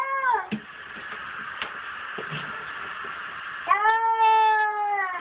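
A cat meows loudly in long, drawn-out wails, one at the start and another near the end, with splashing and rustling in between.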